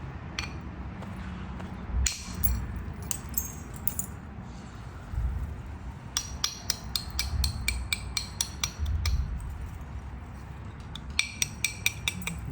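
Chert being flint-knapped with a hammer, Savannah River style, sharp clinking strikes knocking flakes off at irregular intervals over a low rumbling background, with a dense cluster of taps near the end.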